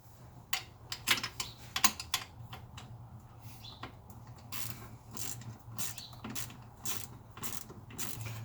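Ratchet with a shallow 15mm socket turning an alternator bolt on a Grand Prix, a string of quick, close clicks in short bursts over a low steady hum.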